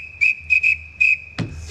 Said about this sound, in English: I will now blow the whistle of power.